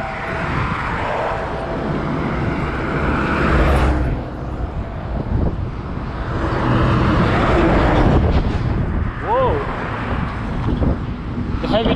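Heavy trucks and road traffic rumble past on newly developed roads in Changamwe, Mombasa, a loud, continuous low roar with swelling passes and a horn-like tone near the end, with people talking nearby.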